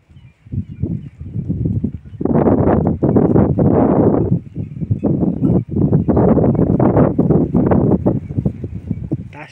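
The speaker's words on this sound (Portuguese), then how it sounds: "Chegando o vento." Wind picks up on a farm near Petrolina, Brazil, loud buffeting gusts that rise and fall in uneven bursts and roar across the microphone.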